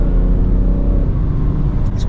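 A car engine fires up and rumbles loudly as it is passed on a road trip from France to Lake Como, a steady low drone filling the short moment, with a faint hiss near the end.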